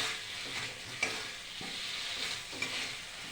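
Aloo dum cooks in oil with ghee, ginger, cumin, chili paste, onion and garlic, making a soft, steady sizzle with a few spoon scrapes and stirring knocks.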